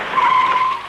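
A car skids to a halt with a sharp, loud tire squeal lasting under a second, close by and alone.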